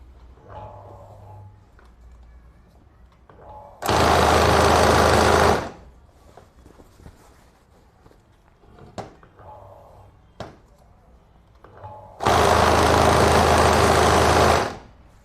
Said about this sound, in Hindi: दूसरी बार मैं आपको सिलाई करके दिखा देता हूँ